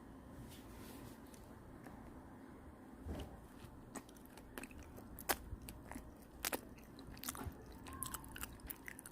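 Someone chews and bites into food mukbang style, with soft, close crunching and squishy bites spaced irregularly over a quiet room.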